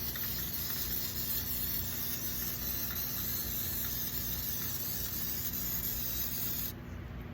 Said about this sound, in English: So we're going to spray our pans.